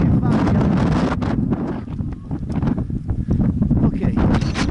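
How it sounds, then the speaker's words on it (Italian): Very strong wind on a mountain ridge pounds the microphone with heavy, roaring low buffeting that surges and dips, while someone speaks underneath it. "Non so se mi sentite, ma tira un vento fortissimo qua."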